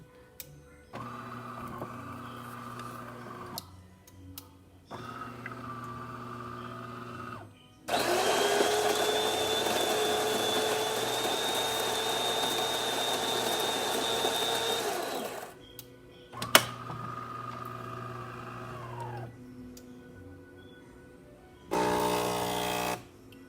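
A DeLonghi Gran Dama espresso machine just after a full tune-up runs a test shot: a steady pump drone with a high whine that starts, stops and restarts in several bursts, alone and fairly loud.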